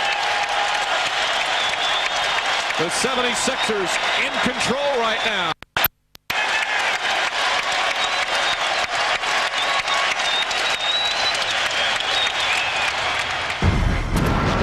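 Basketball crowd roaring in a Philadelphia arena during a 76ers playoff game against the Bucks, a loud sustained cheer filling the clip, with announcers talking over it and a brief dropout midway.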